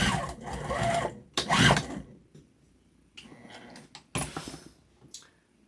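A sewing machine runs back over a tote bag seam in short bursts of stitching, with pauses and handling noises between runs, close and fairly loud.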